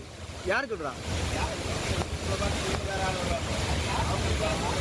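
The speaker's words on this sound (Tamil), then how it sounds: "குற்றால அருவிகளில் தொடர்ந்து மூன்றாவது நாளாக வெள்ளப்பெருக்கு நீடித்து வருகிறது அந்த காட்சிகளை பார்க்கலாம்" Courtallam waterfalls in heavy flood, a loud, dense, continuous roar of rushing water with wind buffeting the microphone, while voices speak briefly in the background.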